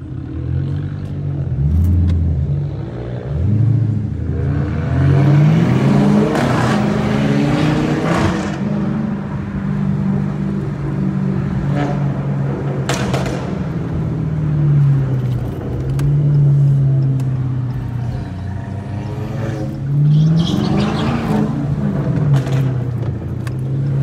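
A Dodge Challenger R/T is driven hard through traffic at night, its engine droning deep and loud with repeated surges as it revs up and eases off, and brief clatters sound between the pulls.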